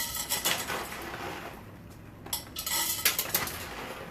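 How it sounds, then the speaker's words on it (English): Popcorn kernels are poured into a hot oiled pot on a stovetop, producing bursts of bright rattling and clinking against metal, with a lull in the middle before another cluster of sharp clatters. "now I'm going to go in with about 3 tablespoons of popcorn."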